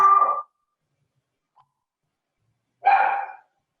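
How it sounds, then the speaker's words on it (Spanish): Dogs barking in the background of an online presentation: two short, separate barks about three seconds apart, with silence between. "se escuchaban los perros atrás"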